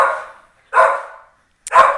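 A dog barks at someone arriving at the door: three loud, close barks spaced about a second apart with short silent gaps between them, and no talk.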